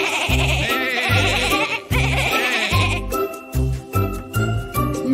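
A singing voice imitates a sheep's bleat, "ve, ve," in a Spanish children's farm-animal song, with wavering bleat-like notes repeated over a bouncy beat and light jingling percussion.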